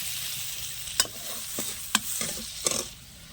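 Chopped onions with cumin seeds, salt, chili powder and turmeric sautéing on a clay stove, a steady soft sizzle broken by a few sharp scrapes of the stirring spoon against the pan.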